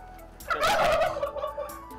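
A farm turkey gobbles in one loud, rapid rattling burst that trails off, close by with no talk over it.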